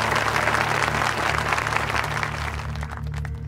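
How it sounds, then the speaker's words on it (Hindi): A crowd at a political rally in Jamtara applauds steadily, a dense, loud wash of clapping that carries on for several seconds with no voices over it and thins a little near the end. "तालियां।"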